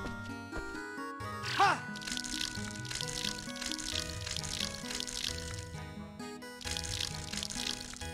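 Watering can splashes over crops in the video game Rune Factory 4, with a brief pouring burst near the start and lighter repeated splashes over upbeat background music.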